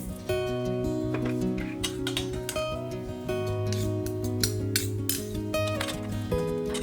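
Utensils clink and scrape steadily against a bowl as gochugaru, vinegar, sesame oil and sesame seeds are mixed together, with light repeated taps over continuous background music.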